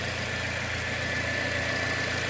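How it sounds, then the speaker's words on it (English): A 2010 Toyota Corolla engine idles after a new drive belt is fitted, giving a steady, smooth, fairly quiet hum with a faint continuous whine and no squeal. "Much quieter with the new belt,"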